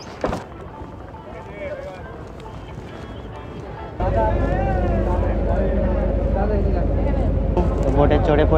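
A small boat's engine drones steadily at a ferry ghat on the way toward Mayapur. Faint activity comes first. Then a loud, continuous motor hum kicks in partway through and keeps running to the end.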